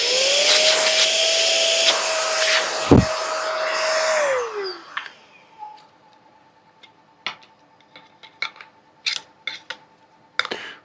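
A Roedix AD33 electric air duster runs loud with a steady whine for about four seconds, then winds down and stops, leaving scattered light clicks and taps.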